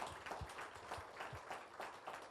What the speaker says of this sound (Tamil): நல்ல கைத்தட்டிடுங்க.